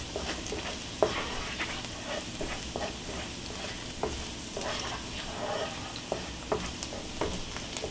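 Garlic frying in a pan with a steady high sizzle and occasional utensil scrapes and taps, fairly close and moderately loud, no voices.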